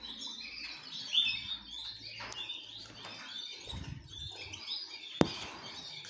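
Caged goldfinches in Khouribga, Morocco, chirping in short, bright bursts, fairly faint and intermittent against quiet room noise, with a sharp click near the end.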